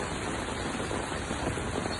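Heavy rain pours steadily in Bangladesh, a dense continuous hiss that holds evenly throughout with no pauses and no voices.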